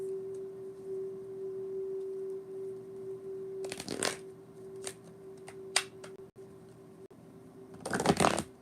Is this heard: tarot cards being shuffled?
yes